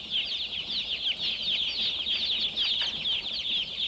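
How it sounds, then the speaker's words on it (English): A broiler house full of day-old chicks gives off a dense, continuous chorus of high-pitched peeping. It stays loud and unbroken from start to finish, with no voices over it. "The day-old chicks are moved to the broiler house where they will grow to marketing weight in under 8 weeks."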